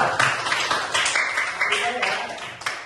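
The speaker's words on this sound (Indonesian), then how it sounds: "Tepuk tangan untuk kelompok 2." Classmates in a school lesson applaud a student group, a brief round of scattered hand claps mixed with voices talking over it.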